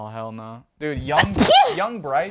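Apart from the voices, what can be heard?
sneeze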